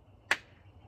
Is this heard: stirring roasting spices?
no